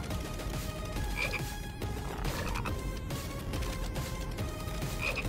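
Frogs croak repeatedly in a Final Fantasy VII Rebirth minigame, a steady chorus of croaks with insect-like buzzing, heard alone and fairly close throughout.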